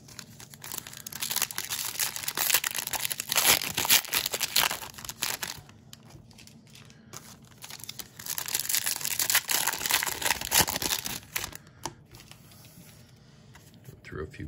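Packs of 2022 Bowman Platinum baseball cards being torn open several at a time, loud close crinkling and ripping of foil wrappers in long bursts with quieter pauses between, a voice talking over parts of it.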